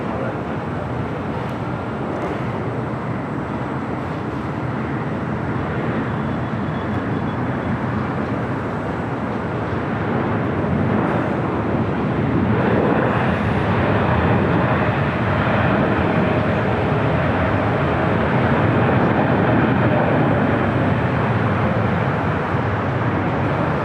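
Airliner taking off at LAX, a broad steady jet roar that swells slightly in the second half, heard from a distance amid airport ambience.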